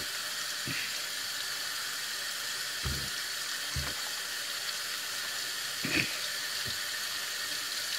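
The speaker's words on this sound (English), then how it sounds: "I'm rinsing now" Running tap water pours in a steady, moderately loud hiss as a face is rinsed, with a few soft splashes and thumps breaking in.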